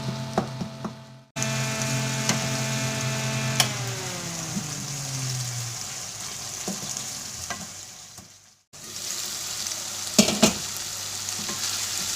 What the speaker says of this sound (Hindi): अब इसको हम तब तक भूनेंगे जब तक टमाटर अच्छी तरह गल नहीं जाते और प्याज और टमाटर यकजान नहीं हो जाते